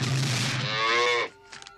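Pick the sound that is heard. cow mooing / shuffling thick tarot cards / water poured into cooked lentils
cow mooing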